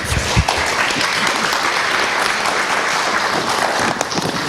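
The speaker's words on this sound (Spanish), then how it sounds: "les damos un aplauso de bienvenida" An audience at a public health and human rights forum breaks into sustained, dense applause welcoming invited guests, a steady wash of clapping that fills the room from start to finish.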